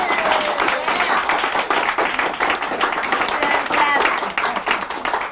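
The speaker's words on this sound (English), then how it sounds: "I want to give them a round of applause." A room of guests at a celebration-of-life party claps and cheers in a steady, dense round of applause that lasts throughout, with crowd voices mixed into the clapping.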